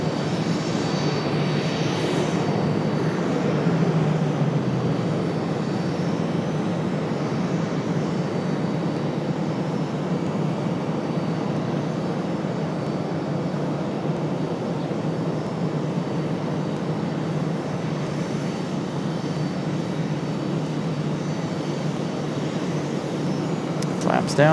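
A jet airliner landing at Raleigh Durham International Airport, a steady broad engine roar from a distance lasting throughout with no break, heard alone without talk over it.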